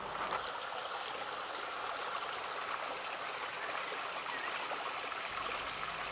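Steady rushing of a mountain stream, the Pa Thiên in Vietnam, flowing continuously at close range with broad, even water noise throughout and no voices.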